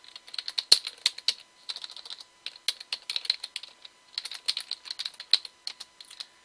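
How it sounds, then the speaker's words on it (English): Quick, crisp clicking of typing on a computer keyboard, close and fairly quiet, in bursts of rapid keystrokes separated by brief pauses. "I'll type it on here."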